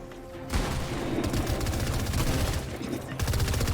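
Rapid automatic gunfire sprays in long bursts during a battle royale shooter match, loud and continuous with a brief pause before a second burst, and a voice faintly audible beneath.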